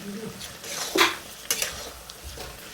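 Grated coconut dry-roasting in a pan over a raised flame, stirred with a metal spoon that scrapes and clanks against the pan in a few sharp knocks over a faint sizzle.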